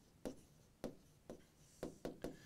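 A pen or pencil writes on paper during a lesson, six quiet, close strokes in an uneven rhythm over a couple of seconds, with no talking.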